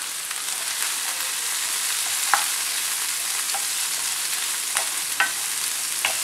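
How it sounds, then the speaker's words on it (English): Garlic, ginger and small onions sautéing in a pan for a Kerala-style fish curry give a steady, close hiss of frying, with a few sharp spatter pops and stirring clicks scattered through. "I'm going to saute this for about a minute."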